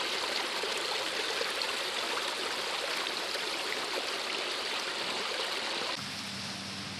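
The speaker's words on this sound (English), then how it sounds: "It's rather a nice little stream, this." A small moorland stream near Crowden at the head of a valley, a steady close babble and rush of flowing water that continues throughout, slightly quieter toward the end.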